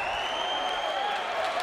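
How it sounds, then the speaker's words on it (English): A crowd cheers and applauds after a fight between Arthur Lasike and Dan Digby, a loud continuous roar with a sustained whistling tone riding over it, no clear speech. "That crowd goes wild."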